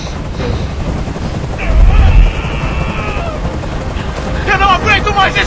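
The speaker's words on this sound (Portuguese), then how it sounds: "Esse helicóptero tem que sair daqui agora!" Helicopter hovering in the video game Detroit: Become Human, a steady low rotor rumble and whooshing wind noise that swells briefly, with a voice talking over it.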